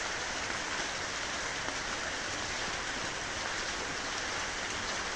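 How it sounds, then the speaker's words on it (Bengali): Steady rain falls outside a rural home during a downpour, a constant even hiss of drops on surfaces throughout, moderately faint with no voices. "এই দেখেন বৃষ্টি হচ্ছে"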